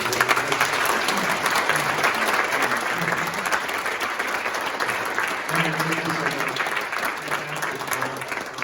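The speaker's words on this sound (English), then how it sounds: "Let's give another round of applause." An audience claps steadily and loudly for several seconds, a dense continuous round of applause with no break.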